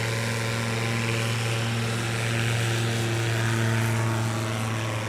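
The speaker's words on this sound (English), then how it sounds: "Next up, Tony Sanchez in the Just Super STOL." Steady propeller drone of a Just Super STOL bush plane flown by Tony Sanchez at a STOL competition, with a strong low engine hum and continuous broadband wash, fairly close and unbroken throughout.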